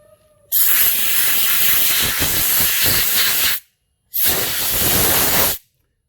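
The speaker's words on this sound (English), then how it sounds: "now I'm going to clean the hub with a spray gun." Two strong bursts of hissing compressed air from a spray gun blowing dust off a Myvi car's wheel hub during brake service, the first about three seconds long, then a short pause and a second burst, close and loud.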